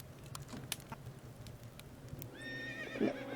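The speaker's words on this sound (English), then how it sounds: "The phantom horse!" A horse in the Nancy Drew: Secret of Shadow Ranch video game gives a rising, wavering neigh near the end, after scattered hoof clip-clops and clicks over a low ambient bed.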